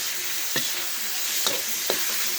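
Minced beef, a mix of trimmings and good cuts, sizzling steadily in a hot pan for Thai holy basil stir-fry, with three sharp scraping knocks of a spatula stirring it.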